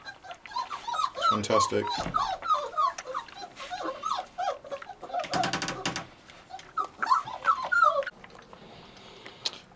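Bully Kutta puppies whimpering and yipping in a litter, a busy overlapping chorus of high whines and squeals close by, with a person speaking briefly among them.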